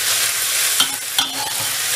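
Fish with salted fermented soybean paste (taucu) sautéing in a pan, a steady bright sizzle with a couple of sharp spatula scrapes and stirs, close and loud with no talking.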